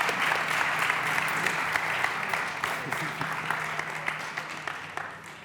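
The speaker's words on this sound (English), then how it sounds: "Big applause for our panelists" Audience applause for panelists at the South Summit 2019 startup conference in Madrid, steady dense clapping that carries on without a break and tapers slightly toward the end.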